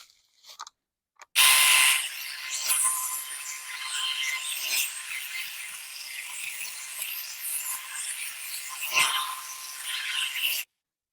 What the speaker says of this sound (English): we'll start trimming these back and see exactly if it has any trouble cutting these very thin